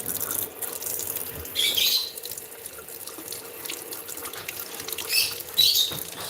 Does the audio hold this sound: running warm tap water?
yes